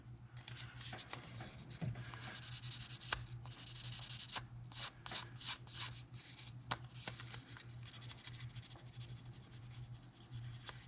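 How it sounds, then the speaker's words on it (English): Sandpaper scrubs in quick, uneven strokes on the metal of a Steyr MF action, working tacky glue off the sight; the scratchy rubbing stays close and fairly quiet, with no talking. "I take a little bit of the sandpaper."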